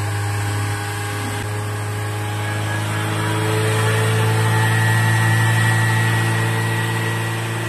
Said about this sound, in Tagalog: Ayan po, in-start po natin. Idle po natin ng 3 to 5 minutes.